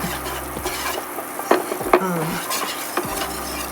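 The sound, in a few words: stirring enchilada sauce with a wire whisk in a pan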